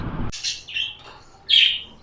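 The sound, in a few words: birds chirping at a bird market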